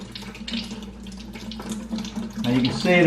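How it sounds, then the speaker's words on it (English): Water rushes from a refrigerator inline water filter line into a bucket, a steady splashing pour that swells louder toward the end, with a low hum and brief talk underneath. "So to flush this out, you're going to have to fill this bucket at least halfway"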